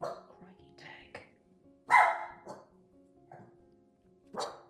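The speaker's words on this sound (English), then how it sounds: "The dog barked because the neighbours turned up." A pet dog at home barking as neighbours arrive, sharp yips and barks scattered over a few seconds, close and moderately loud, with a person talking quietly alongside.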